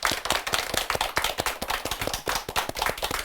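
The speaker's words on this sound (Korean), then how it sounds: "큰 박수 부탁드립니다" Audience applause at a Catholic broadcast event honouring Korean martyrs, a dense, lively patter of many hands clapping in quick irregular bursts, steady throughout and moderately close.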